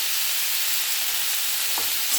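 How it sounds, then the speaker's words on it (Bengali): Beetroot and carrot fry in a pan with salt, a steady close sizzling hiss continuing evenly throughout, with a faint clink near the end. "আমি এগুলোকে ভাজবো, কিছুটা ভেজে নেব।"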